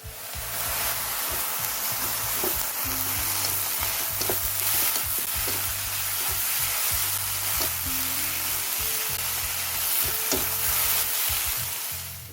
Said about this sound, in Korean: 뒤적뒤적 뭉치는 부분 없이 양념이 섞이면 불 끄고 참깨와 참기름을 섞어주세요.